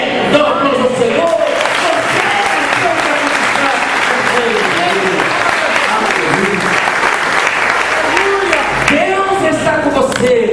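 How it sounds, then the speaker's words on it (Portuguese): A church congregation applauds loudly and steadily for about ten seconds, a dense wash of clapping with voices and a musical backing underneath, easing slightly near the end. "Dá uma aplauso ao Senhor"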